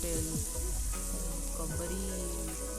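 Bay leaf and spices frying in hot oil for a prawn and coconut curry, a soft continuous sizzle heard close by, with a faint melodic tone running underneath.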